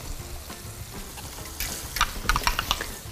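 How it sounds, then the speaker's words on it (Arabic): Homemade burger sauce with chopped pickles stirred in a dish, soft wet scraping and clinking strokes that grow louder and more frequent in the second half, close by with no talking. "سيبي بقى الطبق ونقلب"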